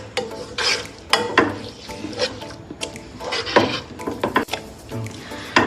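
A spoon scrapes and stirs grated coconut through bubbling sugar syrup in a pot for aggala sweets, with repeated close scraping strokes over a faint sizzle and occasional clinks against the pot.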